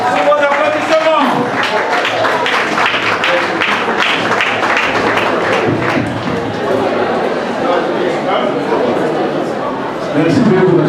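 Wedding guests applaud as the couple enters, continuous dense clapping and crowd chatter throughout, with a voice briefly audible over the steady applause.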